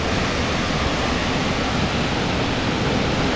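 A massive roaring waterfall as a reservoir floods over a dam, a dense, constant, loud wash of falling water heard close with no pauses.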